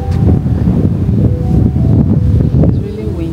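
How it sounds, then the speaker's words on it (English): Strong wind buffeting the microphone with a continuous low roar and gusty rumble, loud and close. "But it's so windy."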